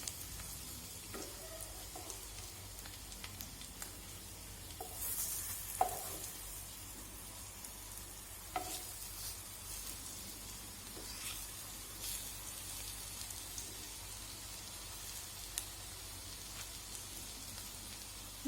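Onion leaves fry in a pan with a faint, steady sizzle, broken now and then by a few soft stirring clicks and taps.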